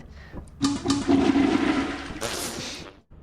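Toilet flushing in the video game Lethal Company: a loud rushing gush of water that lasts about two and a half seconds, ending in a brighter hissing refill before it cuts off.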